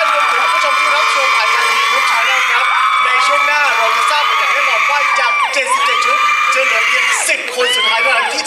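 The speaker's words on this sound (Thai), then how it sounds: "ผมขอเสียงปรบมือกับอิงฟ้าด้วยนะครับ" Loud, continuous crowd cheering with shrill whoops and shouting voices from an audience at a Lanna ethnic-costume fashion show finale, sustained throughout with no pauses.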